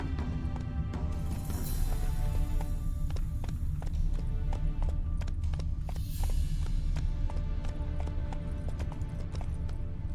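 Roach, the horse in The Witcher 3, trots with steady clip-clopping hooves, a continuous rhythmic beat over a low rumbling ambience, no talk.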